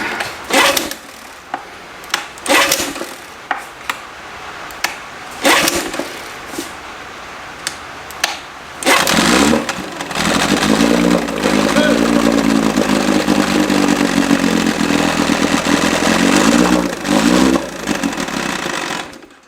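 An old outboard motor, previously seized, starts up and runs loudly with a rough, rattly clatter and steady droning revs. It follows a stretch of sharp knocks and brief bursts, and a voice talks over it.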